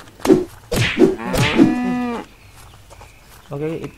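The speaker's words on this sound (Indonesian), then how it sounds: "ada sapi." Cow mooing in the video game Unturned, a few loud, close, drawn-out lowing calls in quick succession followed by a shorter moo after a pause, with no talking over it.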